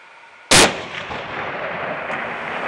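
A single sharp 7mm rifle shot fired from a lead sled at a 900-yard target, loud and close, followed by a lingering rumbling echo.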